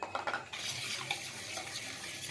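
Powdered sugar mixed into oil for cookie dough, a steady gritty scraping and swishing in a bowl after a few quick taps at the start, close and alone without talk.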